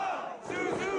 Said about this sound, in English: The crowd sounds like they got Puerto Rico on their back.